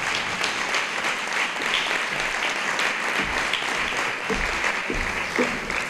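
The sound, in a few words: applause at school anniversary gala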